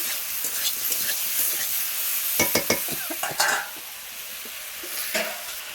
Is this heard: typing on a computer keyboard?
no